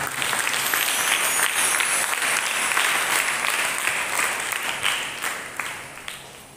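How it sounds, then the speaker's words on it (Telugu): A congregation at a Catholic shrine's festival novena claps loudly and continuously, a dense wash of hands that holds strong, then thins slightly toward the end. "గట్టిగా చప్పట్లు కొట్టండి."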